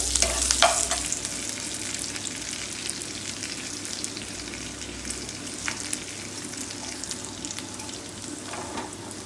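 Mustard seeds and curry leaves sizzle and crackle steadily in hot oil for a raw mango toor dal, a continuous close frying hiss with occasional pops and no voices.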